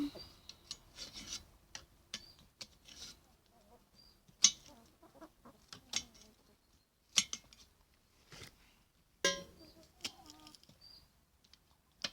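Chickens and a rooster cluck and scratch close by in scattered, quiet bursts, with soft rustling and pecking between calls as they are fed onions.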